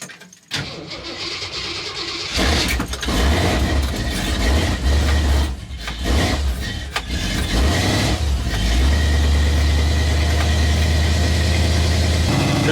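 An AMC 360 V8 car engine cranks and catches after about two seconds, revs roughly a few times, then settles into a loud, steady, close idle with no talking.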